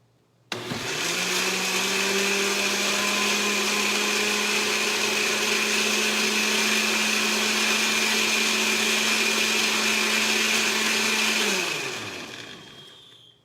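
A blender whirs loudly and steadily for about eleven seconds, mixing evaporated milk, whipping cream, milk, sugar, chocolate syrup, coffee, vanilla and almond into a holiday drink. It starts abruptly and winds down at the end.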